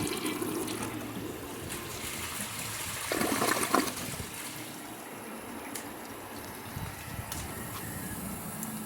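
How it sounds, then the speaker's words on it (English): A 2008 Mansfield Alto toilet is flushed a second time, giving a soft, steady rush of water that swells briefly partway through and then settles into a quieter trickle as the tank refills. "I'm just going to give it another flush and see how it does."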